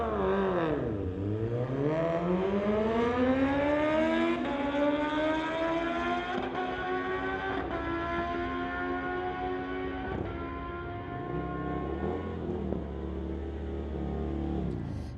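A 2012 Kawasaki motorcycle blasts down a drag strip, its engine note dropping and climbing through rapid gear shifts at a loud, steady roar for the full run.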